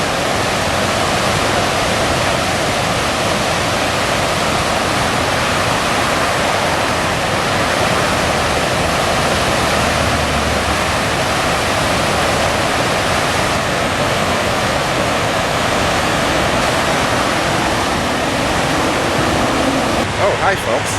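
A roaring waterfall fills the scene with a steady, dense rush of white water that never lets up, loud and close.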